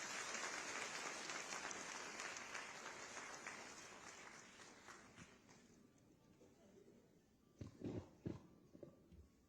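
Applause from an audience at a formal ceremony launching the School Chalo Abhiyan and communicable disease control campaign, a dense crowd clapping that gradually fades, followed by a few scattered thumps and footsteps.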